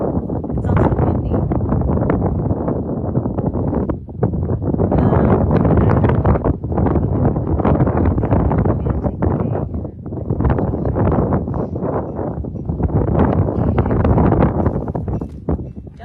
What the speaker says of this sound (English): It's also windy.